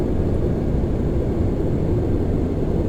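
Lockheed L1011 Tristar jet engines in the P3D V5 flight simulator roar as a steady, loud, broadband rumble while the throttles come back, holding continuously throughout with no voices.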